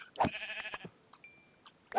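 Sheep in a modded video game bleat twice, once near the start and once at the end, each a short, close, clear cry, with a faint chime in between.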